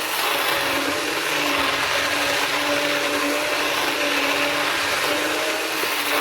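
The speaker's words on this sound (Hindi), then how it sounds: "ये ग्राइंडर का जग होता है, उसमें भी आप कर सकते हैं, ग्राइंड कर सकते हैं।" An electric grinder jug coarsely grinds haleem ingredients with a steady, loud whir that holds at an even pitch throughout, with no voices over it.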